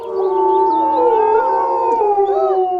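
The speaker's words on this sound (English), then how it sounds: "Their howls can be heard more than 4 miles away" Several wolves howl together in a loud, sustained chorus of overlapping rising and falling tones that continues without a break and without talking.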